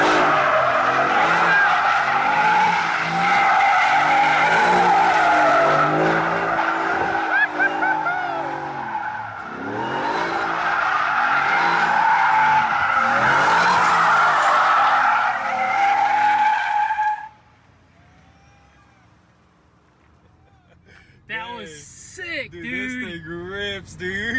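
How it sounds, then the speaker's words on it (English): Shelby Super Snake sliding and drifting on sticky tires, with long loud tire squeals wavering over engine roar for most of the run. Then a near-silent gap, and a few shorter squeals return near the end. Voices talk over it. "It's so easy to slide. It's like you can control the drift."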